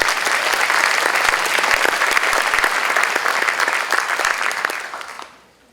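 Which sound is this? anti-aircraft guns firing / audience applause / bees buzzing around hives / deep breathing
audience applause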